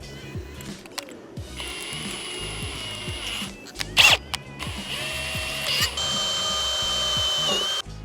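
Drill boring a pilot hole in steel with a 1/8 inch Milwaukee metal bit during barn door installation, several whirring bursts of the motor near at hand, separated by pauses and handling clicks.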